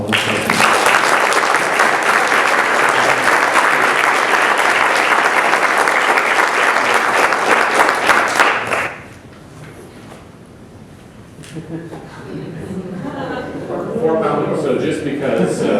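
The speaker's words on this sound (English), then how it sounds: "Would you join me in a round of applause?" Audience applause at a 2010 healthcare forum panel on the biotech and pharmaceutical industry, a loud sustained round of clapping that cuts off sharply midway, followed by quieter room sound and a voice speaking.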